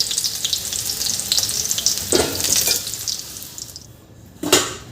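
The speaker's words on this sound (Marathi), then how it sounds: "इथे मी मीडियम टू हाय फ्लेमवर बटाटे तळून घेतलेले आहे" Potatoes frying in oil over a medium-high flame for a dum aloo dish, making a steady, fairly loud sizzle with a couple of brief metallic scrapes from stirring or lifting them out.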